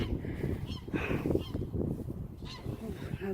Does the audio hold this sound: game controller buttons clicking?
no